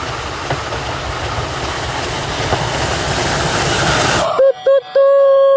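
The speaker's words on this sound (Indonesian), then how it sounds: "Wow, lihat kereta api Thomas." A toy Thomas train runs on its track with a loud, continuous rattling clatter, then switches to a few sharp electronic beeping tones toward the end.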